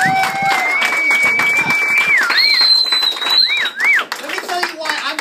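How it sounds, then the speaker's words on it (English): Seminar audience applauds in a steady wash of clapping, with whoops, whistle-like tones and music swirling on top and a speaker talking through it. "Let's give them a round of applause one more time."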